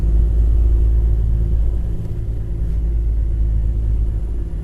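Steady low diesel rumble inside the cab of a Kenworth W900 tri-drive truck in American Truck Simulator, a constant close drone with no talk.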